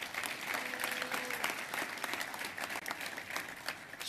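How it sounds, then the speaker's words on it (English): Sustained audience applause fills an awards breakfast hall, a dense steady wash of clapping held at even loudness throughout with a few faint voices underneath. "let's give him one more round of applause"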